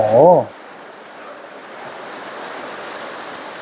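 Heavy rain pours steadily onto a house, a broad hiss of falling water filling the space after a brief voice at the start.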